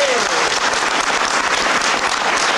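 Loud, dense applause from a crowd at a gospel and Negro spiritual festival in Chartres, a continuous wash of clapping held at full strength throughout.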